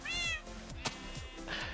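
A Minecraft cat meows twice, drawn-out and fairly close, with a brief sharp click between the two calls.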